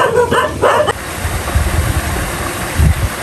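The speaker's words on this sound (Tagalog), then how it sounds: "Bay, ano naman yung mga aso? Pakadami po ditong aso." Several dogs barking at a seaside spot, with a few quick yips early on, then lower barks and whimpers under a steady wash of surf and wind, loud and close.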